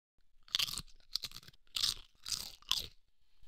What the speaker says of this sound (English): What makes it so crunchy?